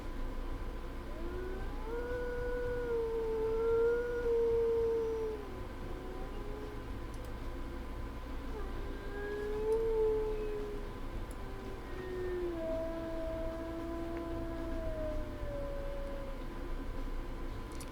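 A wolf in the video game Wolf Quest howling in several long, wavering tones that rise and fall, fairly faint over a steady low hum, with no talking.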